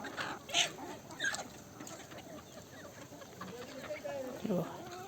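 Chickens on a village poultry farm eat papaya and tomatoes, giving out intermittent short clucks and squawks amid rustling, while someone talks nearby.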